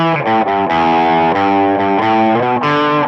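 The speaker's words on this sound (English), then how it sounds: "Then the distortion comes back on after 1 repeat" Distorted electric guitar plays the end of a song, with loud sustained heavy chords changing in a steady rhythm over three seconds and no voice.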